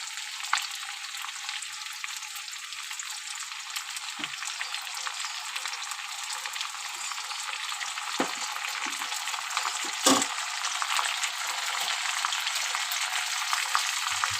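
Onion, garlic, ginger and chilli paste frying in a pan, a steady high sizzle that runs unbroken for the whole stretch with a few faint clicks from the pan and no voices.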